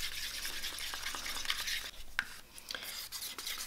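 Acrylic fluid paint is stirred in cups, giving a soft close scraping and swishing that is steady at first, then grows lighter and more broken, with a few small taps.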